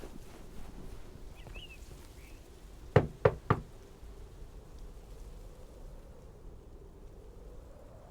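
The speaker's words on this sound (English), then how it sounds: "could you give a quick knock on Gabe's door, just so he'll know it's movie time?" Three quick knocks on a door in the video game Lake, sharp and close, rising above a soft windy outdoor background. Nothing else stands out, and no one speaks.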